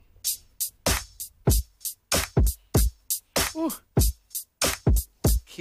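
A steady programmed drum pattern of punchy kicks and snappy hits, evenly spaced and dry, playing alone with no voices.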